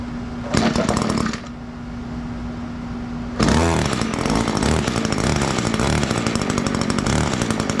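An Echo GT225 two-stroke weed eater engine bursts into life, sputters briefly at idle, then revs up to a loud, steady, buzzing high-speed whine close by.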